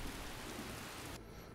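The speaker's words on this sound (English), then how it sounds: "I'm going to wait for this rain to go away." Steady rain falls in Skyrim, a dense continuous hiss of drops across the whole range that cuts off abruptly near the end, leaving a quieter dull wash.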